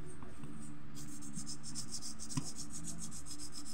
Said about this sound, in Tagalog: So kailangan pa natin ito ng liha.